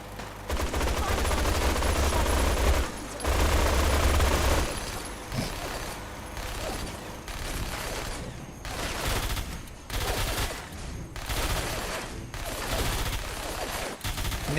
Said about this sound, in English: Took Tessa out with a chain gun.